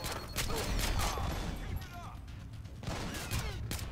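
Gunfire in the stealth video game Splinter Cell Blacklist comes as sharp bursts of shots in two clusters, loud and close, with mechanical clatter between them and some talk in the background.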